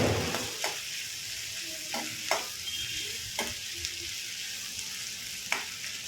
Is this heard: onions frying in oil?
yes